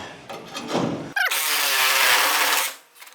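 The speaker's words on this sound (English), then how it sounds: "Okay, Sawzall." A Sawzall reciprocating saw cuts through the roof of a custom Model A sedan during a top chop, a loud, harsh buzzing burst lasting under two seconds after a short lead-in, then stopping abruptly.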